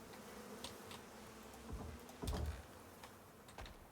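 Bees buzz in the survival video game Icarus, a faint insect drone with a couple of louder bursts and light clicking, no voices.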